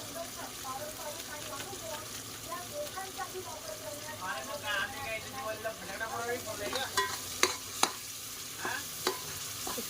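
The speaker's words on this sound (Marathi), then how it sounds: "चांगलं मिक्स करून घेऊया. चांगलं मस्त त्याला तेल सुटेपर्यंत भाजू" Pav bhaji masala is stir-fried in oil, with a continuous soft sizzle, faint voices underneath and sharper spoon taps against the pan near the end.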